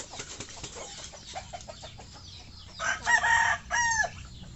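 A Rhode Island Red rooster crows loudly on a small farm, two drawn-out calls heard close by, with faint clucking and other farm birds in the background.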